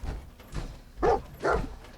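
In Fallout 4, the dog companion Dogmeat lets out two short, soft barks in quick succession, fairly faint, with no one talking over them.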